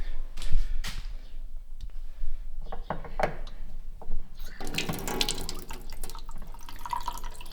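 Water gushes steadily from a tap with small clicks and drips, growing louder and fuller toward the end as the flow increases, in a shower being renovated in a barn in New Zealand.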